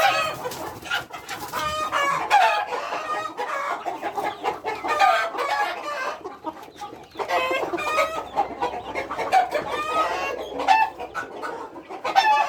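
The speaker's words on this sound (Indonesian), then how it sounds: "ini Mas Medi mau memindahkan ayam yang besar, mau dipindahin." Several Indonesian native kampung chickens on a farm cluck and squawk continuously at close range, busy overlapping calls with occasional louder bursts, no talking.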